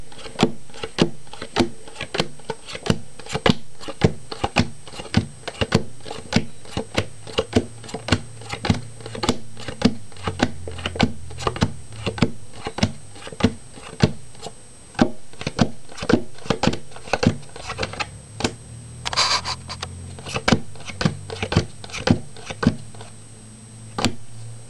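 Playing cards laid out one by one on a table for a card trick, a steady run of crisp close taps and flicks repeating at a quick, even pace, with no talking.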